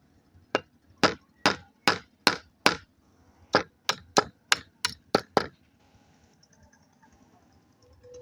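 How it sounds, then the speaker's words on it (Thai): A hammer strikes wood in two sharp, evenly spaced runs, six blows then six more in quicker succession, each crack loud and close against a quiet background, followed by faint rustling. "ตอกไม้เลยตอกไม้ใส่เลยก็ได้"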